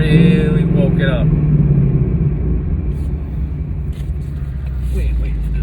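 A 2019 Ford Mustang GT V8 with a Lund tune pulling hard from inside the cabin, a steady deep engine rumble and road roar throughout, with someone talking over it.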